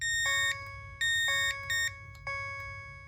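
An Edwards Fireshield conventional fire alarm panel sounds during a smoke detector test in a repeating pattern of loud, piercing high-pitched beeps and tones, with short pauses between bursts.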